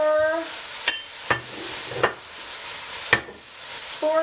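Ground turkey and breakfast sausage links frying in a pan with garlic and onion, a steady close sizzle broken by four sharp scraping stirs; a short tonal beep sounds at the start and end.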